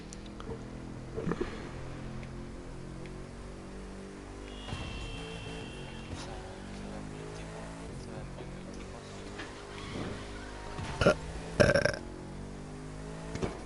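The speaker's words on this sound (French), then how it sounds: "Moi j'ai pas encore roté." A person lets out a burp against a noisy indoor background, with a few scattered clicks and a louder burst near the end; no clear talking.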